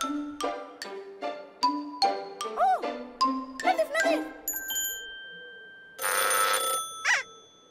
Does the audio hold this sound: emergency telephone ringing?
yes